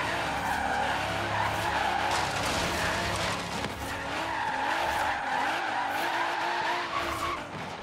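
A rear-wheel-drive Nissan R35 drifts in Forza Horizon 3, tires squealing continuously under a droning engine whose pitch rises and falls through the slide, loud and close throughout.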